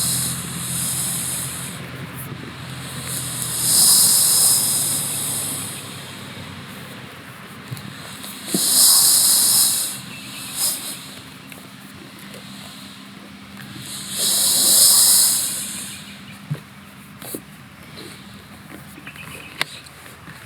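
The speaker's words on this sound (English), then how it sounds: "And as you're flattening it out, the air will come out of the board." Air hissing out of the valve of a Grey Duck inflatable paddle board as it is rolled up, coming in three loud bursts of several seconds each, separated by quieter rustling of the board material.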